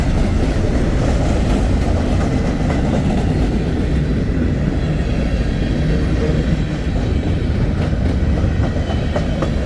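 A freight train, the Sioux City to Hobson Yard turn, rolls past close by on a warm sunny day, giving a loud, steady rumble with rhythmic wheel clatter throughout and no talking.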